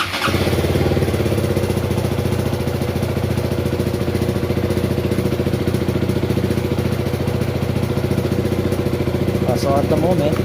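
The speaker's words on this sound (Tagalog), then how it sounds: "And then i-on natin yung ating motor." KTM Duke 200 motorcycle engine starting and settling into a steady, loud idle close by, a continuous even rumble throughout.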